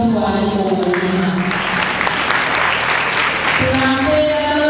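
Sustained applause from an audience for the minister, Dr. Dorothy Gwajima, at a Tanzanian government community welfare event, a steady dense clapping wash with some voices mixed in.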